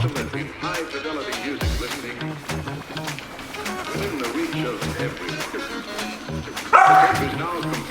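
A Labrador Retriever barks in a series of sharp, fairly close barks, with a louder burst near the end, while a voice talks over much of it.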